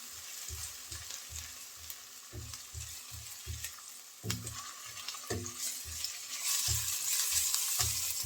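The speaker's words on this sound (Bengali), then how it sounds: "আদা এবং রসুন কুচি একটু ভেজে নেব" Chopped ginger and garlic fry in a pan with a light, constant sizzle, over a regular series of low, rhythmic thumps, and the frying grows a little louder toward the end.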